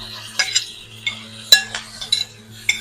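A spoon stirring fried onions and ginger in a pan for a jackfruit curry, a handful of quick metallic clinks and scrapes against the pan over a faint low hum, close by, with no talk.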